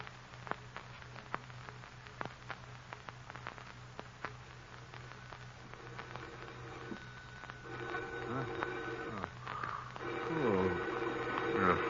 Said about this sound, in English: Phone. Who could be calling at this hour?